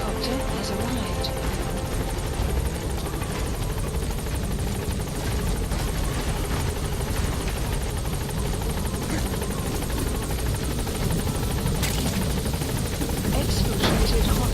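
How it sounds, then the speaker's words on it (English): A support helicopter's rotor in the video game Metal Gear Solid V: The Phantom Pain thrums steadily and loudly throughout, joined by faint radio-style voices and occasional sharp clicks. "Support helicopter has arrived."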